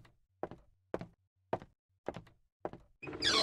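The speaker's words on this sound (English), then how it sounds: "All you hear is banging on your door." Heavy banging on a door in the horror game Emily Wants To Play: six evenly spaced dull thuds, close and loud, followed by a burst of harsher noise at the end.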